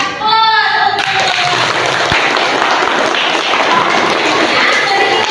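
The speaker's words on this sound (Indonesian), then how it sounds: "Silakan beri aplaus." Students in an Indonesian classroom applaud after a group's presentation, loud, steady clapping from many hands lasting several seconds, with a voice heard briefly at the start.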